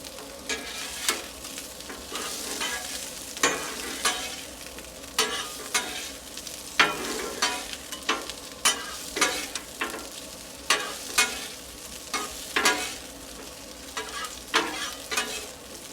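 Leftover brisket frying in oil on a Blackstone griddle, a constant close sizzle broken by regular sharp scraping strokes of a spatula being stirred and flipped, no voices.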